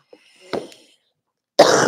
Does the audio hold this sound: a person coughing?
yes